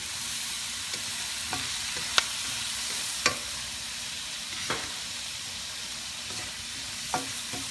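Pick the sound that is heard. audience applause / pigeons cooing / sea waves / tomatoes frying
tomatoes frying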